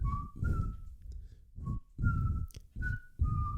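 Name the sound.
person imitating whistling from a song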